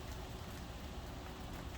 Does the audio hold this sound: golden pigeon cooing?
no